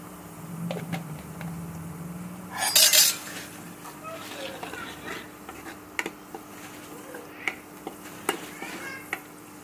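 A spoon stirs jackfruit seed curry in a metal pan, scraping and clinking in short irregular knocks, with one louder burst of sizzling or rattling near the start and quiet gaps between strokes.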